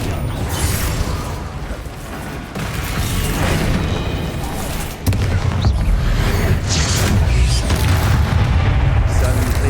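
Rapid-fire combat spells, including Confringo and Bombarda, in the Hogwarts Legacy video game: a loud, continuous barrage of booming blasts and mechanical crashes, with a heavy hit midway, while a voice calls out over the battle.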